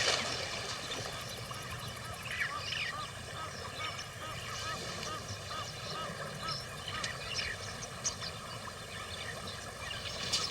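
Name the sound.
knob-billed geese calling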